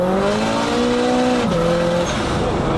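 A revving turbocharged Peugeot 306 engine of about 550 horsepower, with an external wastegate venting underneath, roars loudly and close, its pitch sliding down then holding, with a rough, spitting edge from the exhaust.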